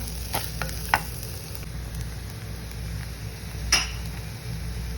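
Spices stirred and fried in a pan for a curry, a low steady sizzle beneath a few sharp clinks of a spoon against the pan, close and without speech.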